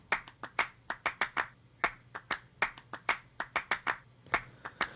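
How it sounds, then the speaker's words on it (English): Hand claps played live as a percussion loop for an indie folk production, sharp close claps in an uneven, syncopated rhythm, dry and alone with no voices. "I do think this clap loop was really fun"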